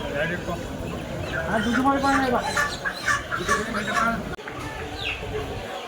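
Chickens cluck and squawk nearby while people talk over them, the bird calls rising and falling throughout.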